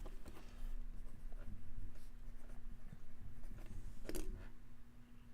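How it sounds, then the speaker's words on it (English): A pen scratches steadily across paper as a name is written down, quiet and close, with brief pauses between strokes. "I'm going to write this down."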